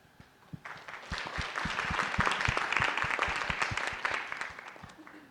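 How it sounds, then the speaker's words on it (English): Audience applause at a girls' STEM keynote and panel event: a sustained round of clapping that builds quickly and holds steady for several seconds, with a few distinct claps standing out near the front. "can we give the panel another round of applause?"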